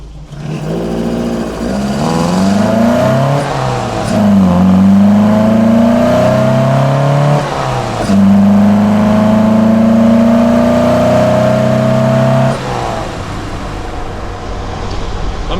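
Opel Manta A engine fed by twin Weber DCOE 40 carburetors, revving up through the gears from inside the car. The pitch climbs repeatedly with drops at each shift, loud and continuous throughout.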